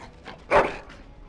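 A single short dog bark in the video game Dragon Age: Origins, one sharp close yelp that stands alone against quiet background.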